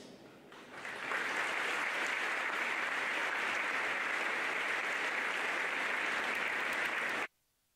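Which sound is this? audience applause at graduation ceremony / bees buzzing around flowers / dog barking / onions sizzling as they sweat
audience applause at graduation ceremony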